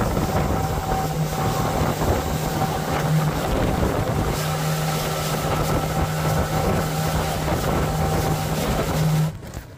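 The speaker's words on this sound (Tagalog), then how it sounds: "Malakas ang hangin, malakas na ang hangin." Strong wind buffeting the microphone in a steady roar on Boracay, with an engine droning underneath, until it cuts off abruptly near the end.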